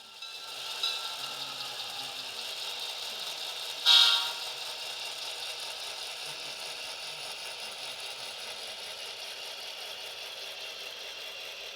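An HO scale Great Northern model train runs on a home layout, giving a faint, steady electric hum and light rolling whir, broken by a brief louder horn-like sound partway through.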